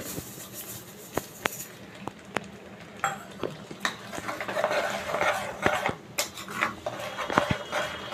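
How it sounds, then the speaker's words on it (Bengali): Sugar being added and stirred into a pot of kheer made with palm pulp and milk, with a run of light scraping, clinking and stirring sounds of spoon against metal, moderately close, with no talking. "তো চিনিটা এবার দিয়ে দেবো, পরিমাণ করেই আমি দিচ্ছি।"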